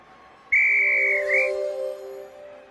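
A clear, sustained whistle tone with a slight upward bend near its end, sounding alone and close in the I Spy Fun House PC game.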